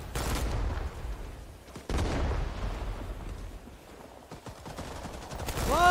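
Rapid gunfire bursts in a Vietnam War shooter game, with loud sharp cracks at the start and again near the end, continuing under a dense battlefield din with no voices.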